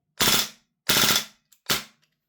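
Three sharp, loud gas blowback shots from a Maruyama SCW-9 SD2 PRO airsoft rifle fired semi-auto with a 30-round magazine, each crack trailing a short metallic ring, spaced about two-thirds of a second apart.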